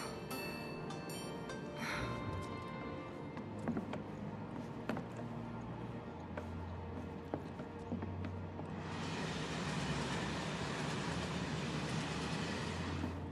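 Train ride in Final Fantasy 7 Remake: a steady low rumble of a rolling carriage with faint rhythmic rattles, growing into a louder, hissing wash of motion noise in the second half.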